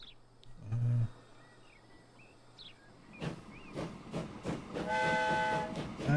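A train in Transport Fever 2 rumbles along with a low engine hum and clattering wheels, and a two-note horn sounds at the start and again near the end as the noise builds.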